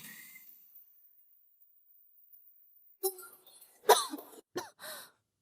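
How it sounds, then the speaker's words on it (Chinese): A person coughs a few times, close and fairly loud, in short harsh bursts after a long near-silent stretch, with a breath or throat clearing between them. "你怎么还在咳嗽？"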